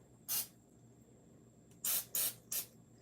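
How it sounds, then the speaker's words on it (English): Three short hissing bursts of cooking spray, one brief spritz followed after a pause by a quick trio, close and fairly loud over a quiet background. "do just a little bit of spray"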